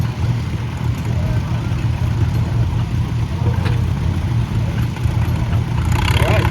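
An antique WD 45 tractor labours through a power pull at the Chautauqua County antique equipment event, its engine a loud, sustained low rumble and clatter that holds steady for several seconds.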